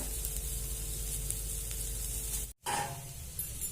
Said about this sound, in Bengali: এবার সেদ্ধ করে রাখা চাউটা আমি এর মধ্যে দিয়ে দিচ্ছি।